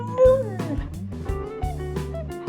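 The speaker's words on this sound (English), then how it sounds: "there's a lot of dogs running around and cats, so if you hear them in the background" Dogs howl and yip close by in a busy household, a drawn-out wavering howl with higher whimpering cries layered over it, continuous and fairly loud.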